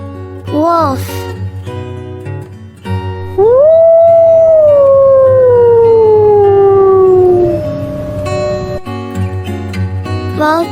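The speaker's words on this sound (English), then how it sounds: "wolf," A wolf gives one long, loud howl that rises and then slowly falls over several seconds. Background music plays before and after it.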